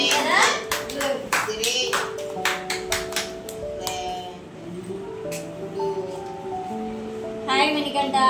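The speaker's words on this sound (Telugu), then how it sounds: "క్లాప్ చేయండి అమ్మ" A group claps in a classroom at an institute for intellectually disabled children, a burst of quick hand claps with scattered taps, while adults and children talk.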